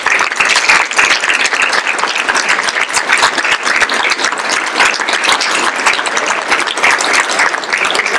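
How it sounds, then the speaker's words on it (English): Sustained, loud applause from a seated audience at an afternoon session in a state capitol, a dense wash of clapping hands lasting the whole stretch with no talk over it. "A round of applause, please"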